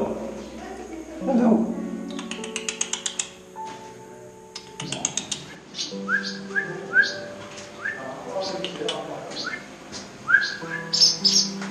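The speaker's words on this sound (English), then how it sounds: "Leave the birds alone." Birds chirping at the Longues-sur-Mer battery in Normandy, with short whistled tweets and bright chirps scattered near and far among clicking sounds, under people talking nearby.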